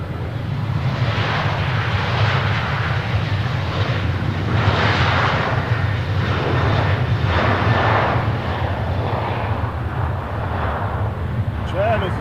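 An airplane flies over near Nashville International Airport, a loud, sustained engine roar that swells and fades slightly in waves, filling the whole stretch with heavy broadband rumble.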